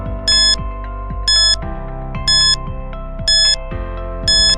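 A quiz countdown timer plays a looping electronic pattern: a steady synth tone with descending blips, topped by a loud high beep burst about once a second, five in all, with no talking.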